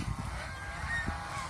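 Geese on a goose farm honk in a few short, nasal calls over a steady background hum, moderately close and without talk.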